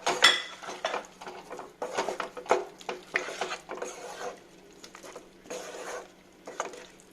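Vegetables and chicken are stirred into white sauce in a pan for pasta, with a spoon clinking and scraping against the pan in irregular bursts of wet patter, close up and alone.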